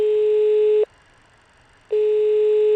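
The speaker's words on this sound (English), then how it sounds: "clicking on attendant call, which will make a buzz noise in the MD-80" Attendant call buzzer in an MD-80 flight simulator cockpit: a steady electronic tone sounds, stops for about a second, then sounds again, loud and close with nothing else heard.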